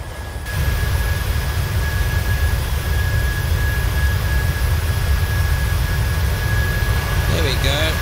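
Airliner jet engines in a flight simulator game roar loud and steady with a constant low rumble and a thin high whine, holding at an even level after a brief quieter start.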